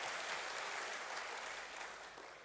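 A church congregation clapping in praise, a thick, even roll of many hands that stays quiet and distant and fades slightly at the close.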